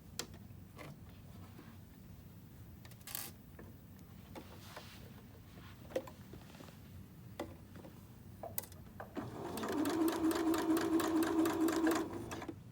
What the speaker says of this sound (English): I'll see you at the sewing machine. Now I'm going to sew along the side that I pinned.